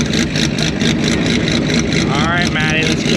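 A de-restricted Kawasaki Ninja ZX14R screams at high speed under hard acceleration, a loud continuous engine roar with buffeting wind, and a rising whine near the end.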